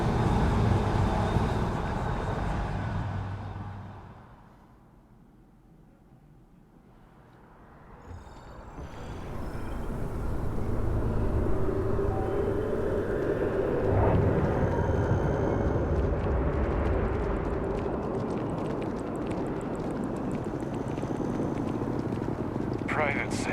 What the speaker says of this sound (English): Constant rocket sounds.